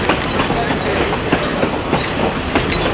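A railroad car on the Essex Steam Train, pulled by engine 40, a 1920 American Locomotive Company locomotive, rolls with a loud, steady clickety-clack and a regular beat of wheel thumps over constant rumble.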